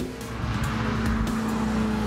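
A 2016 Ferrari 488 GTB engine revs hard toward its rev limiter, a loud sustained roar with a steady tone and a couple of brief crackles, close and continuous.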